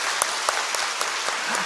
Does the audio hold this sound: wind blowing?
no